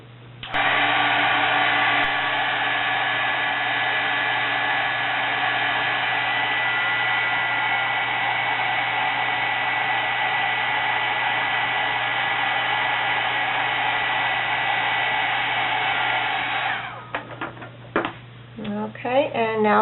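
A handheld heat tool drying a watercolor panel roars as a steady, loud, close blast of air for about sixteen seconds, then switches off, leaving light handling clatter.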